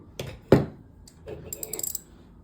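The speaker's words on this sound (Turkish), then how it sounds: "Bir tur çevirdiğinizde bakın bakın makine çok çabuk duruyor" Daiwa Caldia spinning fishing reel with its handle turned once, giving a few short mechanical clicks and a brief whirring spin that stops quickly, close up.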